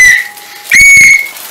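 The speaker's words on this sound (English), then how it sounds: "I got a whistle." A whistle is blown twice during a parlour game of charades, first as a short shrill blast and then as a longer, loud, steady one, up close and with no talk over it.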